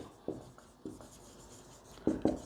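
Chalk or a marker writes on a classroom board in a few short, scratchy strokes, separated by pauses, with a quick pair of strokes at the end, close and faint.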